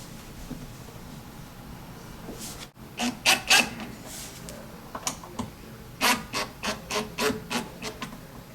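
Screws being hand-turned into pre-drilled holes of a cabinet drawer make soft, scratchy rubbing and creaking strokes in short repeated bursts, close but quiet in a calm room.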